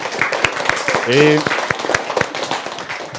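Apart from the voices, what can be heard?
applause for a student's singing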